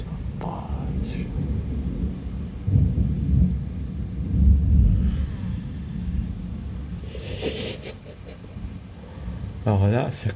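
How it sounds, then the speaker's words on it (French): Thunder from a strong thunderstorm in Alsace: low, heavy rumbles that swell and fade over several seconds, with a voice talking over them at times. "Vu les coups de tonnerre qu'il y a et vu les gros flashs que ça fait"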